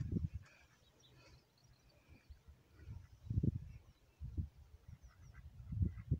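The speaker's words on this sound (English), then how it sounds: "And those ducks are wondering, what's going on?" Ducks on a drained canal feeder reservoir give faint, scattered quacks and honks at a distance, coming in short bursts over a low outdoor hum.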